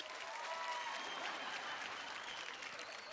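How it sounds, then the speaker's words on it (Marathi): An audience at a televised dance show applauding, dense steady clapping that fills the whole stretch at an even level. "सगळ्यांनी टाळ्या वाजवून तिची साथ द्या"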